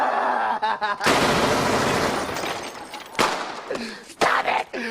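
Gunfire rings out in a loud sustained burst followed by shorter sharp reports, mixed with excited voices nearby.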